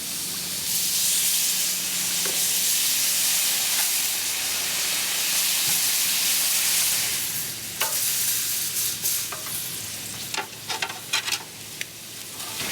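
Miso shrimp sizzle loudly in a hot pan during basting, a dense continuous frying hiss that turns crackly toward the end with scattered pops and clicks.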